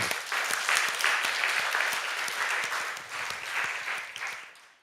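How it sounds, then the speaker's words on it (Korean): A church congregation at a Friday prayer service claps together, a dense run of close, sharp hand claps that holds steady and then fades out at the end. "우리 하나님께 영광의 박수를 드립니다"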